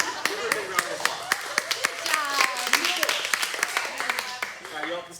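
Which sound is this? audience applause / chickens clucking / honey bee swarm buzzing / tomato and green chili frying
audience applause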